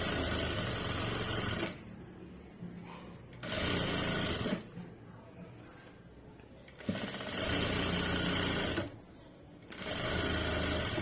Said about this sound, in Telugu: ఇప్పుడు మొత్తం తీసుకుని నీట్గా స్టిచ్ చేసుకుంటూ వెళ్ళిపోతాం